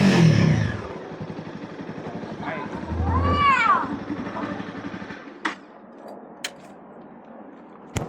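A motorcycle engine from a secret build project gets a quick throttle blip, a short rising rev near the mic, with people talking over and around it.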